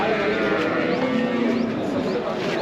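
Cattle at the Vaniyambadi cow market in Tirupattur make a dense, noisy outdoor din, with animal calls blended into loud crowd chatter and someone talking nearby throughout.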